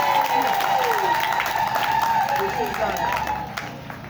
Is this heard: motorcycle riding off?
no